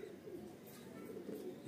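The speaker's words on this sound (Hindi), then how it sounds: "ये रामपुरी कबूतर है" A Rampuri pigeon coos softly in a low, rounded murmur, its faint calls rising and falling in two or three gentle swells over a steady quiet background.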